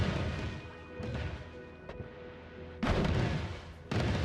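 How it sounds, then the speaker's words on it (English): Explosions in the video game Noita hit as a series of booms, a few sharp cracks followed by two heavy, loud blasts near the end, with no voices. "because the explosions can definitely get me"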